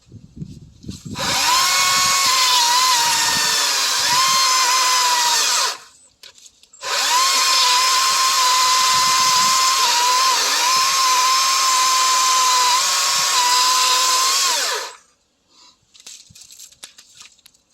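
A battery-powered Stihl MSA 160 C chainsaw whines loud and close through two long cuts with a short break between them. Its motor pitch dips slightly under load, and quiet handling noises follow.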